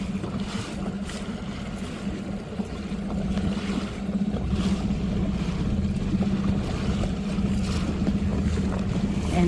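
A small dinghy outboard motor runs steadily in Boot Key Harbor, Marathon, Florida, a continuous low drone under wind and water noise that builds slightly and holds throughout, with no talking.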